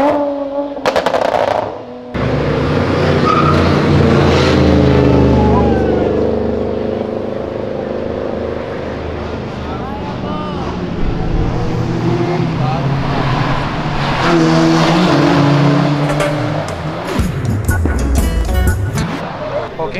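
A tuned turbocharged car, either a Golf GTI or a Civic Si turbo, accelerates hard with a loud, close roar that rises and shifts through the gears. Voices talk over the engine at times.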